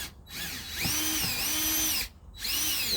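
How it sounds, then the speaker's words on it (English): A power screwdriver backs screws out of a screen door outdoors, with two sustained whirring bursts that rise and fall in pitch, loud and close, separated by a brief pause and no talking. "if you use a power screwdriver, keep it on low."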